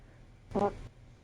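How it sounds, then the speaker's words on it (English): A single short, buzzy fart, fairly loud against a quiet background, lasting under half a second. "Did you just fart"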